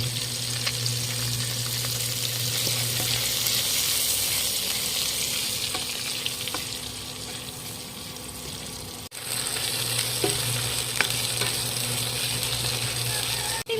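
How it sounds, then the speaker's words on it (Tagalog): Hotdogs frying in a pan for Filipino-style spaghetti, a steady close sizzle with occasional small clinks and stirring sounds, continuous apart from one brief dip midway. "iprito na rin natin yung ating hotdog"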